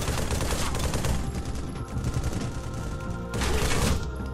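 Gunshots in a VR gun game, a loud, dense volley of rapid shots that swells, dips briefly, then bursts again near the end, close and continuous.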